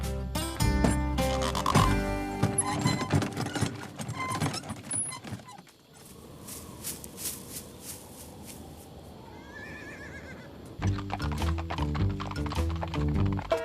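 Cartoon music plays loudly with a horse whinnying, then a middle stretch of rhythmic hoofbeats and rattling before the music returns.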